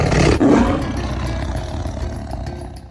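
Tiger roaring in a narrated folk story: one loud, close, deep roar at the start that trails off into a long rumbling growl fading over a few seconds, with no talking.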